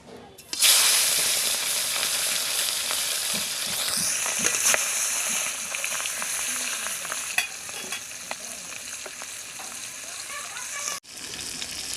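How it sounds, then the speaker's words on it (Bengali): Tengra fish placed one by one into hot oil in a pan, bursting into a loud steady sizzle with occasional scraping stirs and spatters, continuing for around ten seconds before a brief break. "তেল গরম হয়ে গেছে, এক এক করে আমি মাছগুলো দিয়ে দেবো।"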